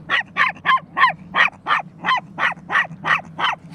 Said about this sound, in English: She looks up at you when she's barking like she wants you to do something.